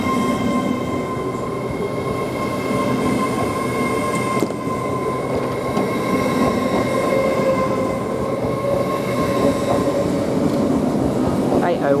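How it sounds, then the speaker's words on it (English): A London King's Cross to York passenger train pulls out of Doncaster station with a steady engine drone and rolling rail noise, close and loud throughout, with faint wheel squeal near the end. "Now we've got this York train now departing"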